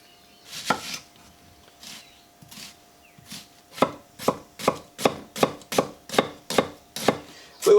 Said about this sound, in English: We want to chop this quite fine because we're going to be eating it like it is